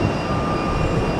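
A heavy Boeing 767 jet airliner takes off from Tampa airport, making a loud, steady, broadband engine roar that fills the whole moment without a break.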